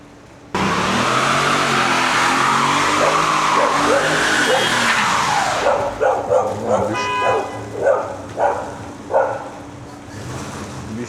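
A dog outdoors in a park in Kutaisi, Georgia, barks about six times in a steady rhythm, fairly close, after a stretch of loud wind-like rumble.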